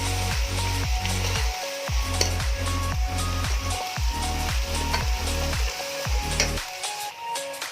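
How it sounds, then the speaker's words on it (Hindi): Ginger-garlic paste frying with onions in a pot for an aloo pakora masala, giving a continuous sizzle broken by rhythmic low scraping strokes of a spoon stirring, close and fairly loud. "ये 2 चम्मच मैंने लहसुन अदरक का पेस्ट लिया है। 2 मिनट इसको प्याजों के साथ फ्राई करूँगी।"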